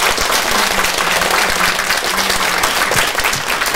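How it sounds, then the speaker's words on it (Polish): Hearty audience applause fills a hall, with a dense, loud wall of clapping from a large crowd that holds steady for a few seconds. "dużo brawa"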